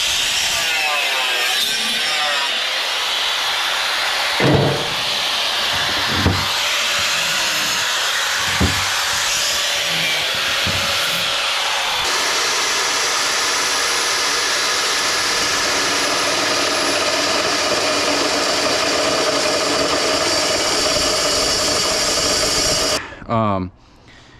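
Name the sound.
saw blade cutting through stainless steel scrap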